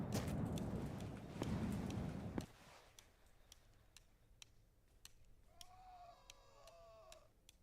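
Engine of a vehicle in a video game ticking and clicking as it cools off after being shut down, a sparse run of faint, irregular clicks after a louder rumbling stretch, with a soft chirping tone later.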